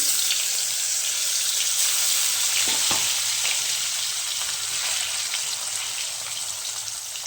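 Pieces of puti fish frying in hot oil in a village kitchen, a steady dense sizzle throughout with a couple of brief clinks near the middle.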